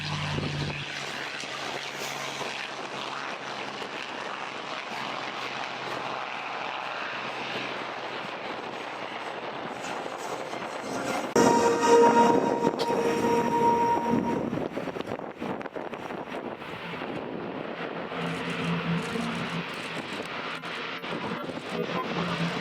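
A Spitfire warbird flies past at an airshow, its piston engine making a steady droning roar that swells to a louder pass around the middle and then settles back to a continuous rumble.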